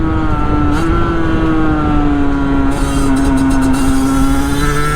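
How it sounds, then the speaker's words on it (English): A Sherco 50 SM motorcycle engine over-revving, a loud, sustained high-pitched two-stroke whine held near one pitch that drifts slightly up then down, close to the microphone with no speech. "it's definitely over revving like crazy"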